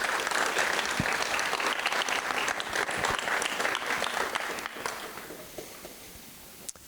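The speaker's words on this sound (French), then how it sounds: "On peut vous applaudir." Audience applause at a prestigious gala evening in the château de Deulin, a dense, sustained round of clapping that gradually thins and fades toward the end, with a few last claps.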